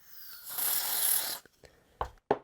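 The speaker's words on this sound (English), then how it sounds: "I'm going to spray it with some contact cleaner" A steady, hissing aerosol spray of contact cleaner onto a Roberts solar DAB radio lasts about a second, followed by a few sharp clicks and handling knocks.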